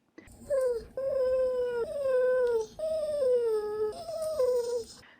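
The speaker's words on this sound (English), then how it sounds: "she just starts to whine or bark" A dog whines in long, drawn-out high-pitched cries, several in a row with brief breaks between them, close and fairly loud.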